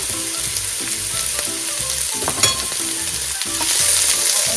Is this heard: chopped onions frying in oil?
yes